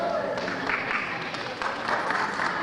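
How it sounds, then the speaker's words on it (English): An audience at a student academic awards ceremony breaks into brief, fairly loud applause, a dense wash of clapping hands across the room. "Let's save the applause till the end"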